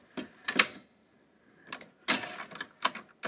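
Mechanical clicks and clacks from the cassette mechanism and eject latch of a National NV-2000 VCR, sharp close bursts in irregular clusters separated by near-silence.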